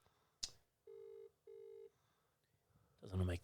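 A phone call rings out unanswered: two steady ringback tones sound in a row, each about half a second long, with a click before them and a burst of noise at the end.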